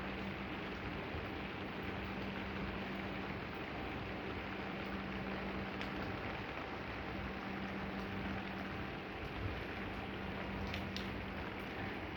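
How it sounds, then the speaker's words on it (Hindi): Steady rain falls outdoors in a dense, even hiss with no break, fairly loud and close, with a faint low hum underneath. "बारिश हो रहा है।"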